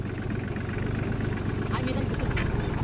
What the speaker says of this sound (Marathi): हळूहळू ट्रॅक्टर पुढे घे.